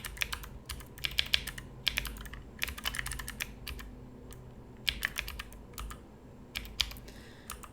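Hands type on a computer keyboard while coding a C++ program, a close, quiet patter of key clicks in irregular bursts with short pauses, with no voices.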